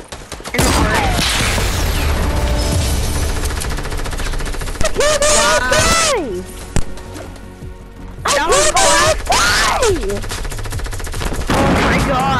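Loud bursts of automatic gunfire and shots in the video game Fortnite, dense rapid volleys with short gaps, while voices speak over the battle.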